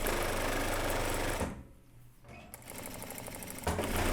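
A sewing machine stitches a shirt hem with a fast, even mechanical whirr, running steadily, pausing briefly midway, then resuming close and clear.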